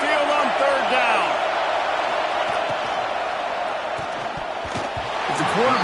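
Roaring stadium crowd at Saban Field during a Texas versus Alabama college football video game on third down, a dense sustained wall of cheering that dips slightly then swells again, with a voice talking over it.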